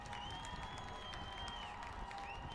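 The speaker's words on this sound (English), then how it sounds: "Lots of noise from the Golden Eagle crowd." Golden Eagle football crowd cheering near the end of a night game, a sustained roar of voices with a few whistles and shouts, filling the whole stretch.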